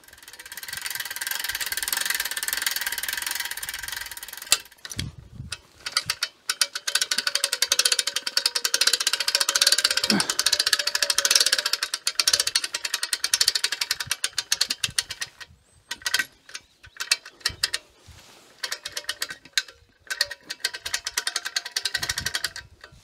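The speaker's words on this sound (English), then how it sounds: "I'm going to start winching now" Hand winch ratcheting as it strains to pull an old wooden fence post from the ground, giving irregular bursts of clicking pawl and creaking mechanism with pauses between turns, fairly close and without talk.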